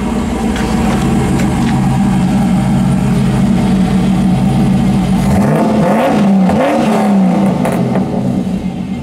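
The LS V8 engine of a 1980 Camaro idles with a deep rumble, then revs up sharply a few times, loud and close.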